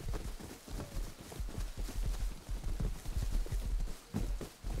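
Horse galloping in the survival video game Rust, a steady rapid clip-clop of hooves running continuously and fairly loud throughout, with no talk over it.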